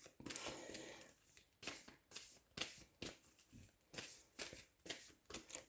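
Tarot cards being drawn and shuffled from a deck, a series of crisp papery riffles and slaps in bursts roughly every second, close and fairly quiet with no talking.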